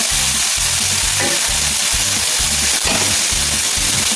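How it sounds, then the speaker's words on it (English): A pan sautés on a hot stovetop, giving a loud, continuous sizzling hiss with a rhythmic low thumping beat repeating under it throughout. "I'm gonna turn up my stove and let it saute for a while before I put the onion in there."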